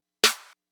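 One crisp snare-clap sample hit, bright and snappy with a short noisy tail, played alone.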